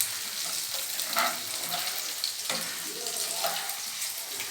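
Ivy gourd curry frying in a pan gives a continuous hiss and crackle, with scraping stirs rising now and then and no talking.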